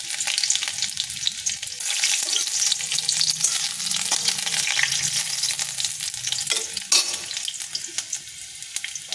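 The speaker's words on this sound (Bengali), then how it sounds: "এই তেলেতে এইবার দিয়ে দেব গোটা রসুন" Whole garlic cloves fry in a little oil in a wok with a steady, close sizzle and occasional stirring scrapes, no voices.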